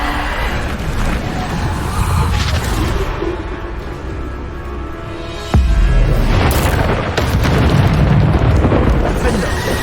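Repeated booming Bombarda spell blasts in the Hogwarts Legacy video game, heavy explosions and rumbling debris amid combat effects, a sharp loud burst midway followed by further crashing impacts.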